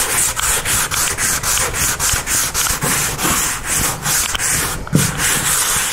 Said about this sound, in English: We're going to just do a gentle sanding.